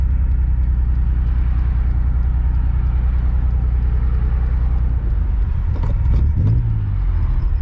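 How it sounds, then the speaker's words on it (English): A loud, continuous road rumble of cars going past close by, steady throughout before a vehicle's sound shifts and fades near the end. "Cars, cars, cars. Always some cars coming."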